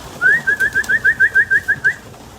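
A pigeon gives a steady run of about a dozen evenly spaced coos, loud and close, with no voices over it.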